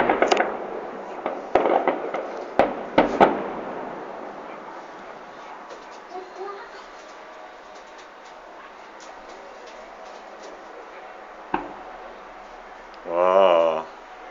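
A 2012 fireworks display in Tudela: several sharp booms and crackling bursts come in quick succession early on, then fade to a quieter, distant patter with one more later bang, while spectators' voices murmur.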